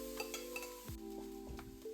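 Chili and garlic sizzle steadily in a hot pan or wok while being stir fried for pad kra pao with pork, with a few clinks of metal utensils against the pan.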